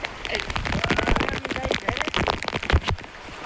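Steady rain patters and crackles across the whole stretch, with a few sharper drips and a faint voice mixed underneath.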